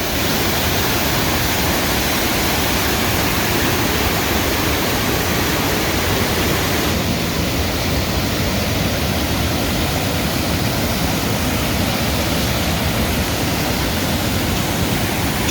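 Loud, constant rush of water pouring through a dam gate at the top of Healey Falls on the Trent-Severn Waterway, a steady broadband roar with no pauses or voices.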